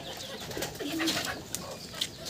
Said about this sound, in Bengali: পুরো ছাদ জোরেই পায়রা